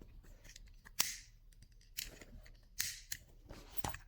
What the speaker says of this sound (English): Snip off the excess thread.